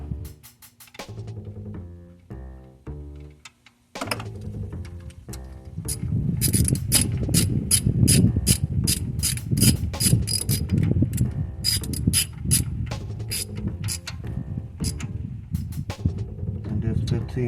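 A ratchet working a 15mm long bolt on a Chrysler 300 during a timing belt and water pump job. A few sparse clicks come first, then a fast, continuous run of ratcheting clicks up close, with no talk.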